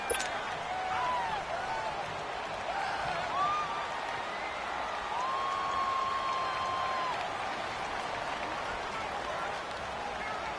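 A football video game's large stadium crowd roars in a steady wash of cheering and clapping during a two-point conversion, with a broadcast-style commentary voice rising and falling over it.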